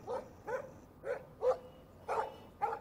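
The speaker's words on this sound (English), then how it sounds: "Stop that. Stop. No barking." A dog barks repeatedly in the Life Is Strange video game, six short evenly spaced barks at moderate distance against a quiet background.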